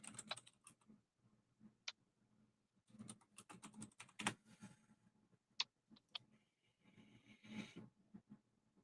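Soft, quiet typing on a computer keyboard, irregular clusters of light key clicks and taps with brief pauses, close but low in level.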